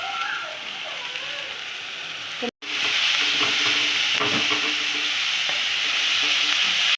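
Sliced onion and curry leaves hit hot oil and are stirred, giving a loud, dense, rain-like sizzle that breaks off briefly and then surges back stronger, with no voices over it.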